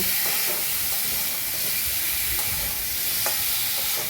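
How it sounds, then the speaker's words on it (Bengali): Green bananas and potatoes fry with turmeric in a pan, a steady close sizzle and hiss of hot oil running throughout, with occasional soft scrapes of stirring. "হলুদ দিয়ে ভালোভাবে নেড়ে ভাজা ভাজা করে নেব"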